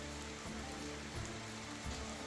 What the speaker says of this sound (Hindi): शाम के 7:30 बजे बाहर देखिए बूंदाबांदी शुरू हो गई।